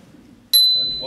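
A timekeeper's hand bell at a transport forum in Whitehorse gives one bright, sharp strike that rings on with a clear sustained tone after a brief murmur of voices.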